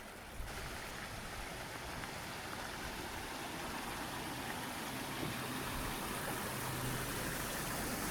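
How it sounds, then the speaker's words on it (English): Steady, even rush of a creek flowing beside a canyon hiking trail near Portland, Oregon, a constant broadband wash of water with no voices. "Our path continues on along the creek."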